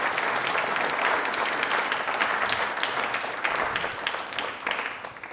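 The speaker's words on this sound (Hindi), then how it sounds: "एक बार तालियां वापस हो जाएं बाबा साहेब के लिए।" An audience at an Ambedkar Jayanti question-and-answer programme breaks into applause for Babasaheb Ambedkar, a dense, continuous round of clapping from many hands that holds strong and begins to thin slightly near the end.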